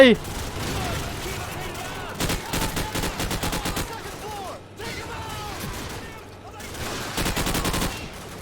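Rapid bursts of gunfire and heavy explosions from a Call of Duty Modern Warfare battle, loud and close, with dense volleys separated by short lulls and a voice talking over the action.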